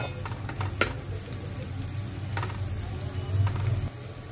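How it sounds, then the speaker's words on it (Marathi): Onions frying in a pan while being browned for a prawn gravy: a steady close sizzle with occasional sharp clinks and scrapes of stirring, and no talk. "अजून कांदा लाल राहिलेला आहे, अजून लाल करायचा आहे"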